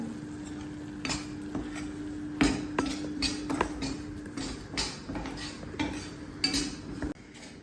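Plain wheat flour roasting in a pan for sweet sheera is stirred with a metal utensil, giving close, irregular scrapes and clinks against the pan at a steady working pace, with no talking.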